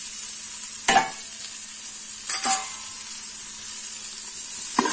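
Sausage, garlic and onion sauté in a pot with a steady soft sizzle and hiss, broken by three short scraping or clattering bursts. No one speaks.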